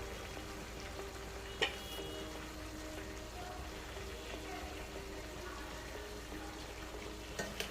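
Paneer frying in a pan at home, a steady, close sizzle running the whole time with occasional sharp clinks of a spoon stirring it, no voices.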